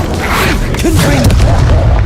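The Confringo blasting spell from Hogwarts Legacy sets off a loud, booming explosion with a heavy low rumble, and voices are heard over it.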